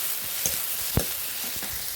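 Fish fries in oil in a pan for a spiced fish dish, a soft steady sizzle close by with a couple of brief stirring scrapes, no talk.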